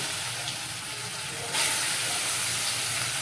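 Jackfruit seed paste hits a hot pan of cumin seeds and asafoetida, and a broad hissing sizzle swells suddenly, then holds steady and loud.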